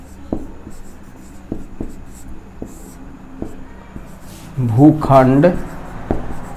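Chalk or marker taps and scratches out short strokes on a board during a Hindi maths lesson, faint clicks recurring under a teacher's brief spoken words.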